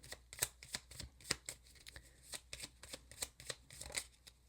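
Oracle cards from the Secret Garden deck are shuffled by hand in a steady series of soft, papery riffling flicks. They sound close but quiet, with no talking.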